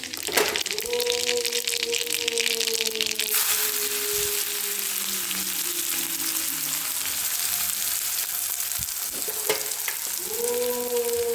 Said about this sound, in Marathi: आता ह्याच्यामध्ये आपल्याला कांदे भाजायचे